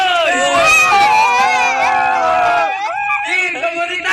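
A crowd at a Filipino FlipTop rap battle yells and screams loudly to vote for a winner, a dense sustained roar of many high voices with brief dips near the end.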